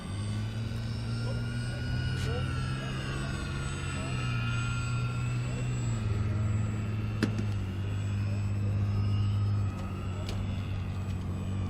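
A Fun Cub four-channel 1100mm EPO foam RC airplane on its landing approach, its electric motor giving a steady, droning whine whose pitch slowly drops and shifts.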